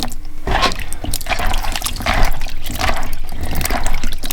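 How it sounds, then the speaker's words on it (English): Raw potato chips are swished and rinsed by hand in a bowl of water, producing loud, close sloshing, splashing and dripping that continues steadily without talk. "Now we're going to plunge them into water and wash them."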